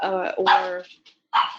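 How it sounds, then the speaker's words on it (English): A pet dog barks nearby in a home office, a few sharp yelps mixed with a person talking briefly over it during a remote work meeting. "sorry, that is my dog"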